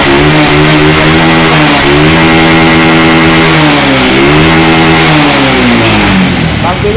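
A Honda Wave 125 motorcycle engine with a faulty carburettor revs loudly and close, its pitch rising and falling in uneven surges as it strains and stumbles, with a voice talking over it.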